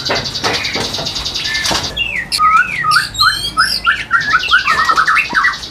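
Caged songbird of competition quality singing in a small house, with bright rapid whistled phrases and chirps repeating close and loud, with no voices.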